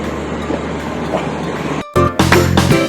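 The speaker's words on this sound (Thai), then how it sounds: "รถไฟก็ออกตามเวลาครับผม" Steady rumble of an express train departing Krung Thep Aphiwat Central station, then after a brief cut a louder passage with rattling cars and a tonal horn-like blare.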